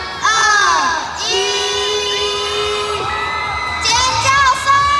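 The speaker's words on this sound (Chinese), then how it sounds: "尖叫声！" A crowd of children at a school Christmas event screams and cheers as Santa Claus appears, with loud, sustained shrieks and whoops that swell again toward the end.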